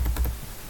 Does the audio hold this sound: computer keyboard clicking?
yes